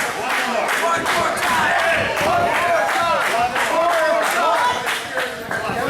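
A wrestling crowd at an indoor match roars steadily, cheering and chanting loud and close throughout, with bursts of clapping and shouts rising over the continuous din as chops land in the ring.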